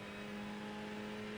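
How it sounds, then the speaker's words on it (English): A Ferrari 488 GT3 race car engine drones steadily on track at Imola, a sustained even tone with no voices, heard from inside at moderate level. "let y'all hear the car for a little bit"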